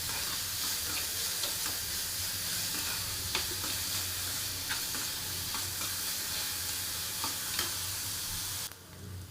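Onion frying in a pan over medium heat, a steady close hiss and sizzle with occasional soft stirring clicks, continuous and alone until it drops away at the very end.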